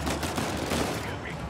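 Rapid gunfire crackles in a burst during Uncharted 4 gameplay, loud and dense over the short stretch, with a voice talking underneath.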